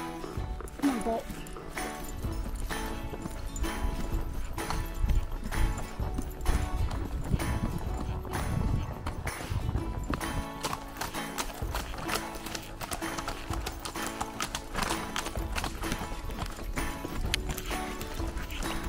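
A horse trots with a steady, rhythmic clip-clop of hooves that runs continuously and close by, with some wind or movement noise around it.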